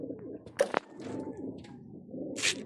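Pigeons coo softly in the background while a loud, close rustle and flutter bursts out briefly partway through.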